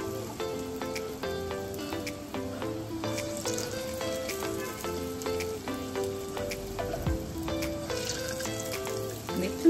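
Small pieces of food fry in very hot oil in a pan, giving a continuous bright sizzle with crackles throughout, under steady background music.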